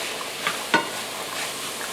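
Food sizzles gently and steadily in a pan, with a couple of soft stirring scrapes.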